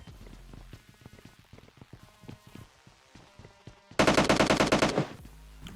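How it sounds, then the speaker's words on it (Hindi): Rapid automatic gunfire in a mobile battle royale game, with scattered shots and crackling bursts early on, then a loud, dense sustained volley near the end that cuts off sharply; no talking. "वो गन शॉट के बाद सुन के हम ऊपर आए"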